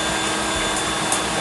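An electric mixer runs steadily through cake batter, giving a continuous loud whir with no pauses and no speech.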